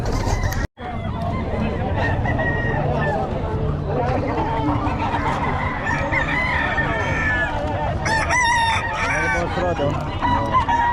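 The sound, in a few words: roosters crowing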